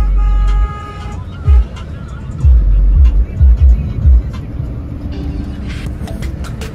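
A car driving at speed on a single road, a steady loud engine and road roar with repeated low thumps from bumps, while someone talks throughout.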